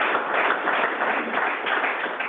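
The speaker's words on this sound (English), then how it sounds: "just a round of applause for an amazing origin" Audience at a keynote conference session gives a round of applause, a dense steady wash of clapping that stays loud and even throughout the brief stretch.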